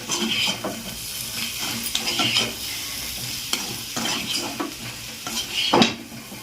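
Potato fry (aloo fry) gets stirred in a pan, a spoon scraping and clinking against the metal in irregular strokes over a soft sizzle, close by.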